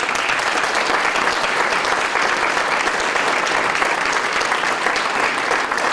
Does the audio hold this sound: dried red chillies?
no